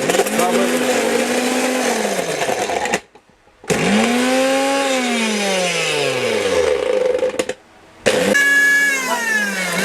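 A powerful Orpat steel-bush blender grinds chicken with bones hard in bursts, its motor pitch sagging and rising under load, with two short pauses between runs.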